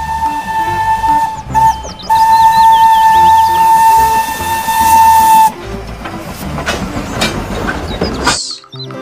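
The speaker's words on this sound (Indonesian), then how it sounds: "Ada satu kereta api Thomas." A Thomas the Tank Engine toy steam train chuffs and hisses while a high whistle sounds repeatedly, then the hissing continues loudly before cutting off near the end.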